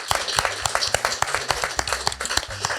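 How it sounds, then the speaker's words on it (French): An audience at a podcast recording applauds with brisk, scattered clapping that holds steady throughout, loud and close. "On peut vous applaudir"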